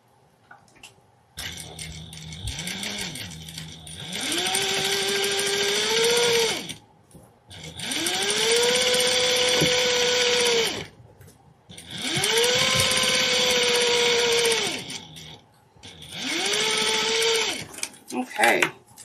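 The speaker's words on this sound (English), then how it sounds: "I'm going to top stitch this using an 1/8 seam allowance." A sewing machine top stitches fabric at an eighth-inch seam allowance. Its motor whirs up close in four sustained runs that rise in pitch as they start, separated by short pauses.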